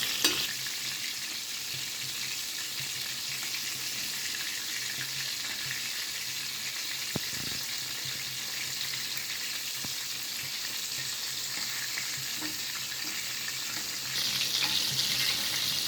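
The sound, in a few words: frying chicken strips in oil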